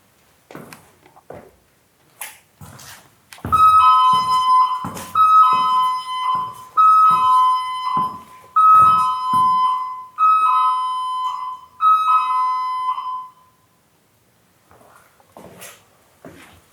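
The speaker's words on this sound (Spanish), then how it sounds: "Voy a pasar para ahí y se va a activar la alarma" An electronic alarm in an old hotel sounds in repeated loud beeping bursts for about ten seconds, preceded and followed by scattered knocks and footsteps.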